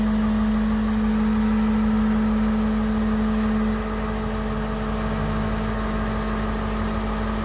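A 2021 Ford F-600 dump truck with a Samco dump body idles at a steady, unchanging drone throughout, close and continuous with a constant hum and no revving.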